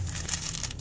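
A plastic bag holding herb tea crinkles and crackles in short irregular bursts, close and fairly loud, with no talking over it.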